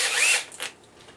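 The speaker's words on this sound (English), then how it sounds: "So I'll go ahead and drill those carefully." A power drill runs in a brief, high whirring burst, boring screw holes for tweeters in a speaker cabinet build. It stops, then gives a short second whir and a faint mechanical rattle.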